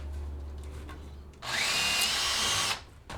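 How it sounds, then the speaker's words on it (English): A 1/4 inch drill bores a clearance hole through wood for a cold frame, a loud steady power-drill whine rising to full speed, running about a second and a half before cutting off, close up with no talk. "drill this clearance hole first, because it's a lot easier to run my 1/4 inch drill"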